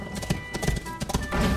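Horse hooves clip-clop in the Hearthstone card game, a quick run of muted thuds under a layer of game music. A horse whinnies loudly right at the end.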